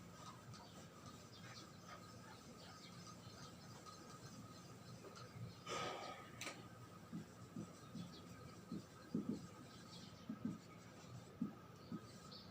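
Marker or chalk writing on a classroom board, faint scratchy strokes in short irregular bursts over a steady background hum, with no talking.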